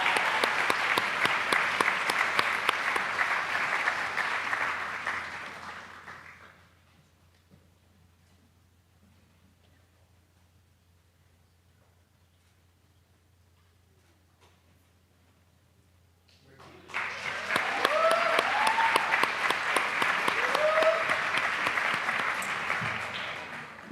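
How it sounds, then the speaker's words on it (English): Audience applause at an awards celebration honouring staff members, a dense burst of clapping that fades out after several seconds, then a long near-silent gap before a second strong round of clapping starts up and continues to the end. "Let's give this group a round of applause as we pause for a photo"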